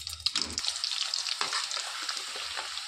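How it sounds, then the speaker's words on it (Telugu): Amla gooseberries, cut into segments, drop into hot oil and fry with a steady bright crackling sizzle, a few louder pops and splashes near the start, close and continuous with no talking. "ఈ ఘాట్లు పెట్టుకున్న ఉసిరికాయలు ఇందులో వేసేసుకోవాలి. వేసి వేయించుకోవాలండి నూనెలో."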